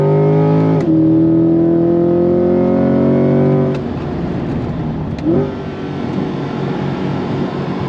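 A Corvette C8 Z51 Stingray with its 6.2-liter LT2 V8 launches hard, the loud, throaty engine note climbing through a rising rev sweep, snapping through quick upshifts around the second and fourth seconds, then pulling on steadily with no voices.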